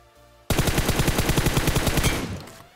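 Rapid automatic gunfire in PUBG New State erupts suddenly into a loud, evenly spaced burst of about two seconds, then trails off into a short fade, with no voices.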